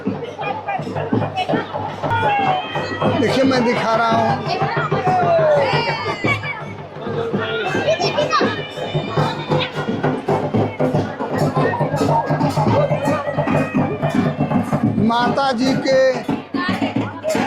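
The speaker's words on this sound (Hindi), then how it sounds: "देखिए गजब का भीड़ है, उमड़ती हुई गजब की भीड़ है" A large, surging crowd fills a temple festival at Shri Shri 108 Vaishnavi Durga Mandir, Kedo Bazar, on Saptami. Dense chatter and children's shouts form a steady, loud hubbub, while someone talks close by throughout.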